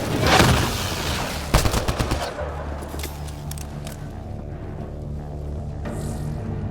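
Suppressing gunfire in the video game Mass Effect: a dense burst of rapid shots and blasts up front, then scattered fainter shots and a distant boom over a low rumbling game soundscape.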